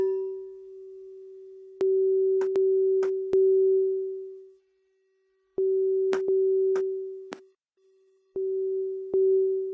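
Spitfire Audio Crystal Bowls sampled instrument plays a steady pure sustained tone, broken by sharp percussive clicks and brief ringing strikes, with a short drop to near silence midway before the tone resumes.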